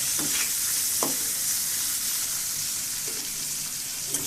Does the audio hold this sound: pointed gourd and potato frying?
yes